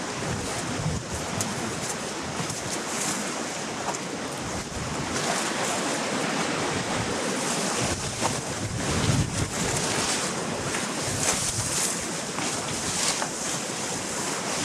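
Strong wind gusts roar steadily across an exposed mountain trail near the summit of Gunung Tampomas, a continuous loud buffeting rush against the microphone with no voices.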